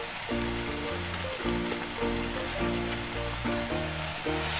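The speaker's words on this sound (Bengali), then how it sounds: "দিয়ে ভালো করে মশলাগুলো ভেজে নেব।" Ground cumin and coriander powder sizzle steadily in hot oil in a frying pan, a dense, even hiss heard close with low tonal background music underneath.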